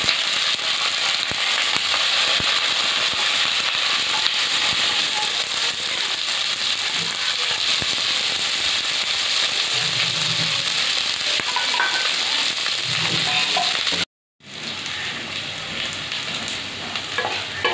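Chopped onions and spices frying in a pan, a dense continuous sizzle with stirring scrapes and crackles, briefly cut off near the end before resuming, no voices.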